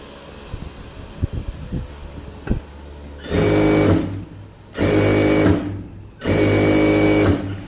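A sewing machine stitches a chudithar sleeve in three loud, even bursts of about a second each, separated by brief pauses, after a few quieter handling clicks and knocks at the start.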